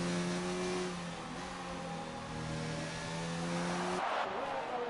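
F1 racing car engine in a racing game at Japan's Suzuka Grand Prix, a sustained high whining engine note holding steady with slight pitch shifts, fairly faint under a commentator's voice.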